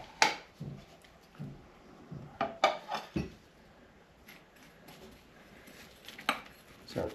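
A knife and dish clinking and tapping as a baked St. Patrick's pie crust is cut open, scattered close knocks and scrapes with pauses between them and no talk.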